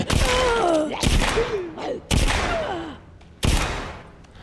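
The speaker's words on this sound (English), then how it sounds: "Why I'm trying to shoot that one in the head at distance, I don't know." Four loud gunshots from a firearm in the zombie survival game The Walking Dead: Saints & Sinners ring out about a second apart, each with a sharp crack and a long, echoing tail, while a voice is heard between the first shots.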